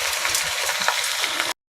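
Bottle gourd and green chillies fry in oil for Muslim-style dalcha, giving a loud, steady sizzle with faint stirring scrapes that runs unbroken and then cuts off abruptly.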